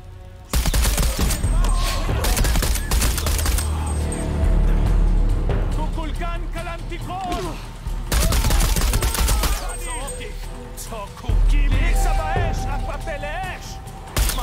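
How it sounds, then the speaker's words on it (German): Rapid bursts of gunfire ring out as enemies are shot in Shadow of the Tomb Raider, with loud repeated volleys over game ambience and a voice talking throughout. "So, jetzt knall ich natürlich die hier oben auch ab."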